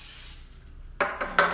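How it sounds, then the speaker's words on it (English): Cooking spray hisses from a can into a baking pan, a long near spray followed by three short bursts. "Okay, I am going to spray the pan."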